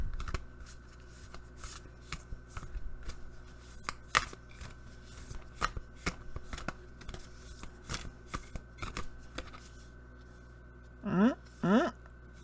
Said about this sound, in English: Don't look at me while I'm shuffling.